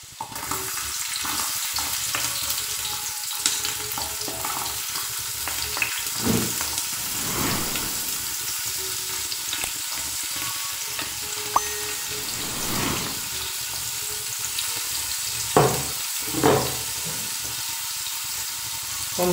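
Chopped onion fries in a pan for a white bean stew, giving a steady loud sizzle with occasional scrapes and stirring strokes and no talking.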